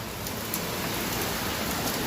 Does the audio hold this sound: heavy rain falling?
yes